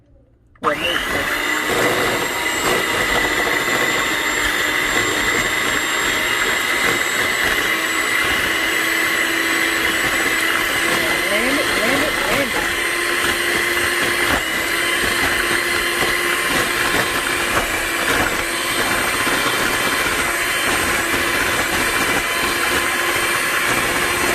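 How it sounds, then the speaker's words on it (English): A kitchen blender whirs on abruptly and runs loud and steady for a long stretch with a high motor whine, close up, blending sweet potato. "get up in that tater first before I turn this blender on"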